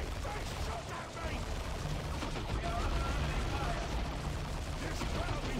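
Chaotic battlefield gunfire from the Warhammer 40,000 strategy game Dawn of War 2 Retribution, dense overlapping shots and crackling bursts forming a constant, busy din with no pauses.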